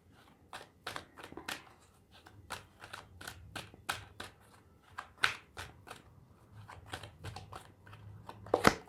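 Tarot cards being shuffled and drawn, a quiet close run of crisp riffling flicks and slaps in an uneven rhythm, with no talking heard.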